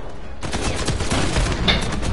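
Rapid gunfire in an Uncharted 4 multiplayer match, a dense burst of overlapping shots lasting about two seconds, loud and close with no talk over it.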